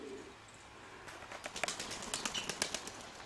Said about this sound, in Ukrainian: Сідає він. Сідає цей голуб.